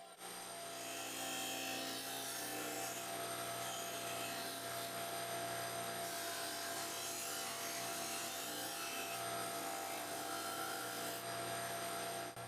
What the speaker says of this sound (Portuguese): Depois posso usar a lixadeira de disco para arredondar os cantos e dar formato arredondado na ponta.